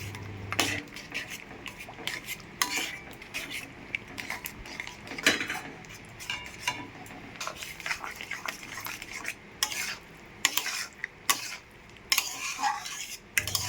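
A spoon stirring rice flour paste into greens cooked with a fish head in a pan, scraping and clinking against the metal at an irregular pace, soft and close, with faint sizzling underneath.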